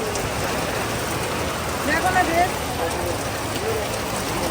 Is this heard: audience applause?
no